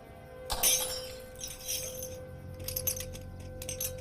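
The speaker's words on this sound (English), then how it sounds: "I knocked over my glass." A drinking glass is knocked over and shatters on a hard floor, giving a sudden bright crash followed by tinkling shards and scattered clinks, close and fairly loud.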